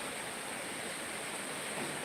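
Heavy rain from a typhoon in Bicol province, Philippines, a dense, steady broadband hiss like a waterfall, constant and loud without breaks or voices.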